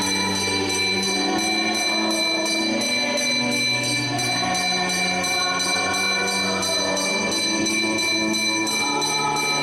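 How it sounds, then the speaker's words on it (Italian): A church bell rings on Holy Thursday in San Vero Milis. Its loud, dense, steady ringing carries through the whole stretch with overlapping metallic tones, and no voices are heard. "Suoniamo anche questa campana che il primo fratello si avvicina a suonare"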